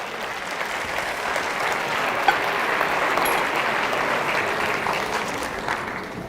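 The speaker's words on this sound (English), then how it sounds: "Give him a round of applause one more time" An audience at a TEDx talk in Chandigarh applauds a volunteer after a magic act: a steady, dense wash of clapping that holds evenly for several seconds.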